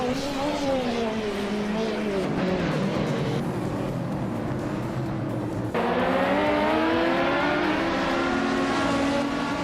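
Race cars in a video racing game, engines droning loudly with rising and falling pitch as they shift and pass, a continuous roar throughout.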